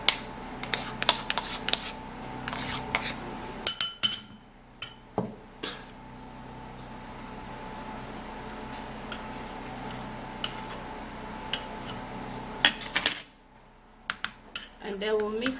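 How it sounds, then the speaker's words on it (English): A spoon scrapes and clinks against a bowl while a pounded skincare mixture is transferred, giving scattered sharp taps and clatters over a steady low room hum, with a quiet stretch in the middle. "now we're going to be transferring that into a bowl"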